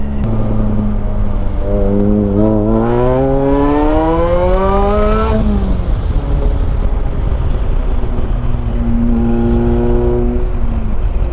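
A budget Ariel Atom driving, its engine note climbing steadily through a long, loud rev, dropping sharply at a shift, then pulling up again close to the microphone.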